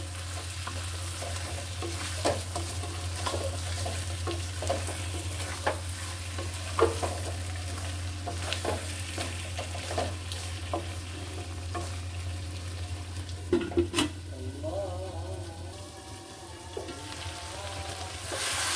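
Meat fries in oil in a pan with a continuous sizzle, intermittent scrapes and knocks from stirring, and a constant low hum in the background.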